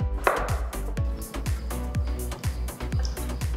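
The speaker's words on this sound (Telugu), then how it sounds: "వీటికి ఉన్న స్కిన్ తీసేసి వీటిని చిన్న ముక్కలుగా కట్ చేసి పక్కన పెట్టాలి." Peeled potatoes cut into small pieces on a board: a steady run of soft, evenly spaced knife chops, close and fairly quiet, about two or three per second.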